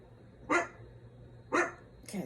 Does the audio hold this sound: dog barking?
yes